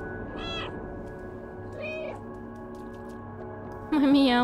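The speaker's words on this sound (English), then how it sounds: "My meow is so cute." A cartoonish cat in the game Stray meows a few times in short, high, tonal calls over a low electronic hum, with a louder, brighter meow at the end.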